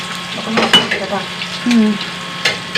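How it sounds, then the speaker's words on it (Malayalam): Crackling sizzle of food frying in a pan, with brief stirring clatter and a short voice over the steady hiss. "വറുത്തെടുക്കട്ടെ"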